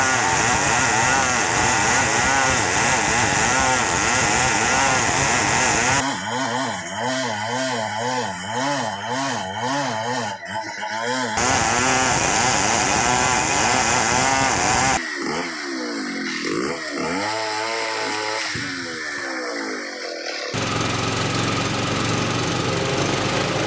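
A Stihl 070 chainsaw with a long bar cuts lumber, its loud two-stroke engine revving and bogging in sections, alternating between high-pitched cutting whine and a rougher, pulsing idle, close and continuous.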